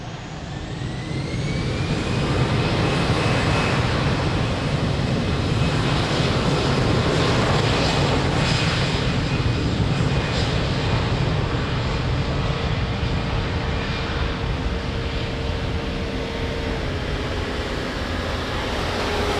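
A fixed-wing aircraft powers up and takes off from runway 02 at Lisbon Airport, a loud, sustained jet roar that swells early and holds steady for the whole stretch, with a faint rising whine threading through the rumble.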